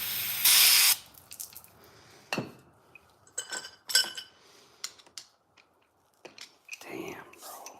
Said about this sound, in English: Let me grab a spray.